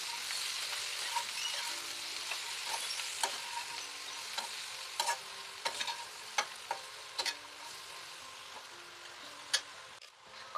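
Egg and broad bean curry sizzles steadily in a pan while a utensil scrapes and stirs it, producing scattered sharp clicks and knocks against the metal over a continuous frying hiss.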